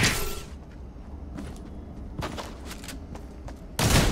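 Several sharp gunshots crack out in quick bursts from a game, with a louder burst at the end, against a quiet background.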